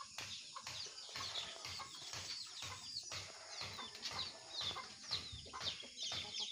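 Chickens clucking and chirping in a busy farmyard, steady overlapping calls with scattered bird chatter and rustling, no talking.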